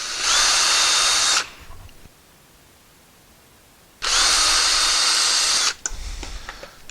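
A power drill bores concealed hinge holes freehand into wood in two loud bursts, each about one and a half seconds long, separated by a quiet pause, with a short rougher whir at the end.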